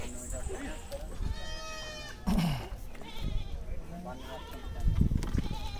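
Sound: goats bleating at a livestock market

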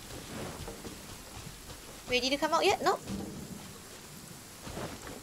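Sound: rain and thunder in the video game Genshin Impact

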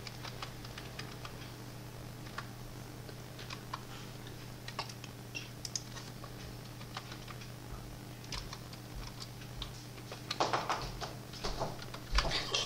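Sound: typing a password on a computer keyboard

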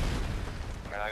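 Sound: grenade explosion in video game Modern Warfare 2

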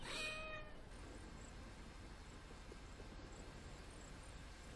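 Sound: cat meowing in a video game

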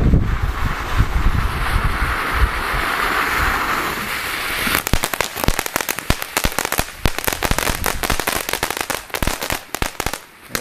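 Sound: medium size fountain firework from Costco set

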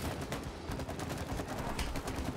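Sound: shooting in the video game It Takes Two

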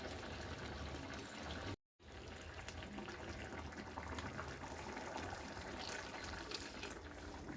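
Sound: water poured into mixer grinder jar

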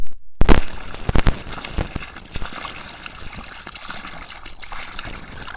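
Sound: water flowing from solar-powered pump, 375 watt

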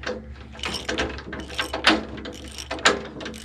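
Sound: wrench turning a well drilling rig's hand crank

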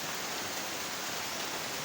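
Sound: heavy rain falling

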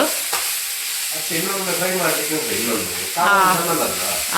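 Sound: onions frying in a pan

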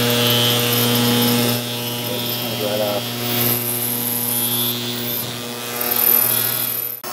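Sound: ultrasonic cleaner running with RC engine parts

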